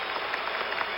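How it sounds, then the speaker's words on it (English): Basketball arena crowd at an NBA Finals game, Philadelphia at Portland, applauding and cheering in a dense, steady wash of clapping, briefly and without talk. "and the crowd on its feet"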